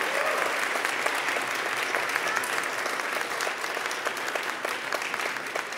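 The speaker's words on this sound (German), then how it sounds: "Wenn Sie weniger klatschen, können wir die Zeit wieder einsparen." An audience at a basic income lecture evening applauds, a dense and steady spatter of many hands clapping that holds for several seconds, fairly distant and evenly sustained.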